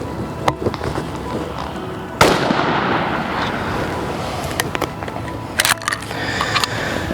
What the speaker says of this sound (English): Here is the 20 gauge at 10 yards.